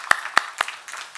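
A few scattered, separate claps from a church congregation during a Sunday morning worship service, three sharp close hits then softer spatter trailing off.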